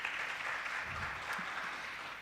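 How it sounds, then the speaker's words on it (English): Steady applause from an audience at a university entrepreneurship competition, many hands clapping together in a dense, continuous wash that fades slightly toward the end. "Please, can we just clap hands for our judges?"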